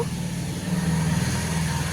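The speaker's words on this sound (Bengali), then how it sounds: "গাড়িগুলো তো কত ফাস্ট যাচ্ছে" Cars rush fast past on a road in the rain, a steady loud rumbling swoosh of traffic close by, with a voice speaking briefly over it.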